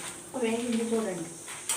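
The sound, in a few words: chana dal and dried red chillies frying in oil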